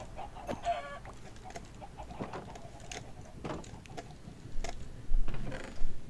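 Chickens cluck repeatedly in the Minecraft video game, a busy stretch of short clucks and squawks that grows louder and denser toward the end, with no voices over it.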